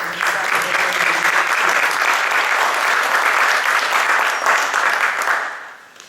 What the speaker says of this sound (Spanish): Recibimos con un cálido aplauso